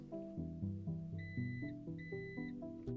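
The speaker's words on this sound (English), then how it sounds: "press and hold the button until you hear the 2 beeps" Two short, clear electronic beeps from the tailgate button of a Volvo XC40 sound over background music, one after the other with a brief gap between them.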